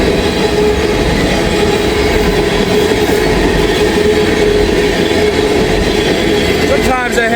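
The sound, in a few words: empty ethanol freight train passing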